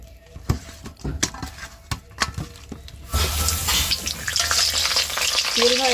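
Clattering stirring clicks give way to a loud, steady sizzle of fish frying in hot oil in a pan close by.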